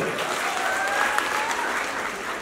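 Audience at a Kikuyu gathering breaks into steady applause, a dense even patter of many hands, with a faint voice audible underneath.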